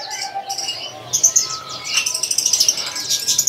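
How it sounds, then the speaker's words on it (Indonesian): A golden zebra dove, a perkutut kept at a bird seller's, gives short high chirping calls in quick bursts, with other birds chirping around it and a few voices faintly in the background. "di sini ada yang namanya burung perkutut golden"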